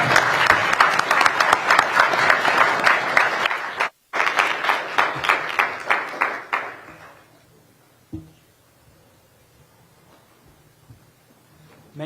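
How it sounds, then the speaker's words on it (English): Audience applause at a political forum closing a panel on China and US–China relations, loud sustained clapping for about seven seconds, cut briefly near four seconds, then fading to quiet room tone with a faint thump. "and a round of applause."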